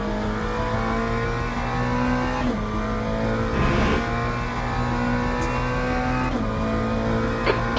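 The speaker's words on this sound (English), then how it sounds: "There's a group of faster cars behind. They're racing for position." Race cars in Le Mans Ultimate at Fuji, a multi-class pack, roar steadily at close range, engines droning with harmonic whine and brief shifts in pitch as other cars close in from behind.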